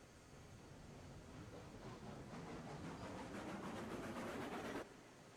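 Train cars being shunted in the railroad simulation game Railroads Online, a steady rolling rumble with faint rhythmic clicking that builds and then drops off abruptly near the end, with no voices.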